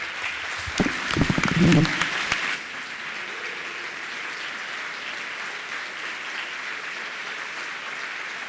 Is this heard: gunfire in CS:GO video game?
no